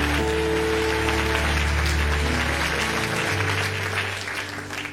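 Church congregation applauding loudly and continuously, a dense wash of clapping over a sustained organ chord, fading slightly toward the end.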